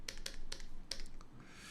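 Typing on a computer keyboard during a public seminar, a handful of quick, sharp key taps in an irregular rhythm, fairly faint and close, with no talking over them.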